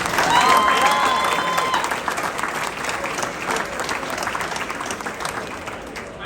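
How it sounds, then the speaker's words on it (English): An audience at a Thunderbirds air demonstration team event applauds a pilot, a dense, sustained round of clapping with a few cheers, loudest at the start and gradually tapering. "huge round of applause for our Thunderbird 6 Miami"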